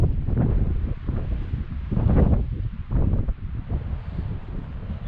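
Strong wind sweeps across an open outdoor hilltop and buffets the microphone in uneven, rumbling gusts that swell and fade over a few seconds, close and loud with no voices.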